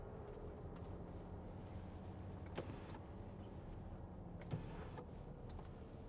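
The electric sun blind of a 2011 Land Rover Discovery 4 3.0 SDV6 HSE slides shut with a faint, steady motor whir inside the quiet cabin, with a couple of soft clicks along the way.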